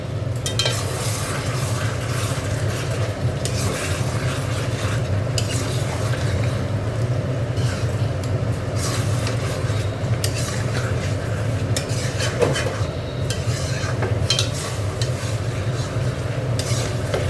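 Chicken curry sautéing in a pan after Kashmiri chili powder goes in, with a steady loud sizzle and repeated scraping stirs of a utensil against the pan, close and continuous.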